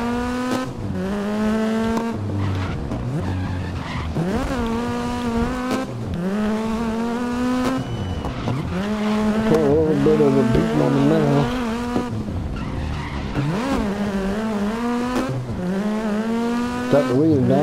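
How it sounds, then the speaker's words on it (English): A Ford GT race car in the GRID racing game roars through a lap, its engine note repeatedly climbing and dropping through gear shifts, with tire squeal in the corners, loud and continuous. "I'm gonna drive the Ford over the Ferrari."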